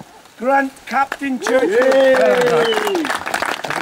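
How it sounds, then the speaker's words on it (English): Applause and cheering ring out for the winner of the Vet Experts class at a muddy hare and hounds race, a steady patter of clapping running under an announcer's amplified voice. "Big round of applause to the winner of the Vet Experts with 13 laps"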